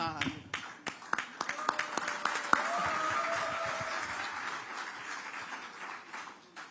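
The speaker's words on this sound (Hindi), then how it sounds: "मेरे लिए भी कुछ तालियां बज रही" Audience at a Panchayat Aaj Tak political event in Madhya Pradesh with a politician breaks into bursts of hand clapping, dense at first and then thinning, under a sustained tone and a speaking voice.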